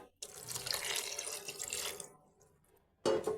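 Water pours into a pot of spiced kabuli chickpea curry in a steady rushing stream that tapers off, then a short burst of splashing follows. No voices.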